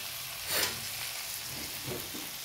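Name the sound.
onions sautéing in a pan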